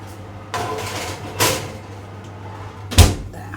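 A kitchen oven door is opened as bacon goes in to cook alongside pork: three separate clunks and rattles, close and moderately loud, the last one sharpest, with a steady low hum underneath.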